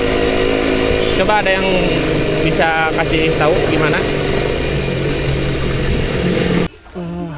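A Suzuki Satria two-stroke motorcycle with an aftermarket under-slung exhaust revs on a city ride, its raspy, buzzing engine rising and falling in sharp bursts beneath someone talking.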